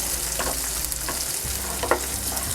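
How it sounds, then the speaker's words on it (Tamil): Curry leaves frying in ghee on medium flame, an even crackling sizzle broken by a few spoon scrapes against the pan, steady and close. "மீடியம் ஃப்ளேமில் வச்சுட்டு இதை வந்துட்டு நல்லா ஃப்ரை பண்ணுங்கள்"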